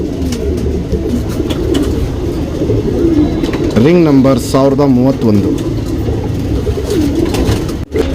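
A male pigeon gives a couple of throaty rolling coos close by, over a steady noisy background while someone talks.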